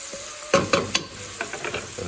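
Onions sautéing in a pan for escarole and cannellini soup, with a steady soft sizzle under a few louder scraping stirs and clinks, close and fairly quiet.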